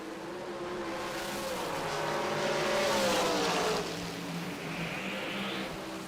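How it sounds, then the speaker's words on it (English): Drag racing cars launching side by side down the racetrack at a PDRA East Coast Nationals event at GALOT Motorsports Park, one of them a Maddox chassis; a sustained loud engine roar rises and then fades slightly as they pull away into the distance, with no talk. "Abdul in the Pro Wire machine, left side of the racetrack, and Chad Trailer here on the right-hand side"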